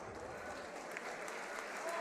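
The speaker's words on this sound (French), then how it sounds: "applaudi par le public connaisseur de l'espace Cassin de Beach pour cette Nuit des Guerriers" An audience applauds at a fight night event in a hall, a dense steady patter of clapping from the crowd with faint voices mixed in.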